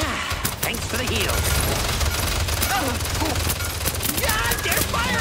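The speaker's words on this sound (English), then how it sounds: "they're firing on us!" Gunfire from the video game Paladins, dense rapid shots and impacts rattling continuously under excited game effects and a voice talking over the action.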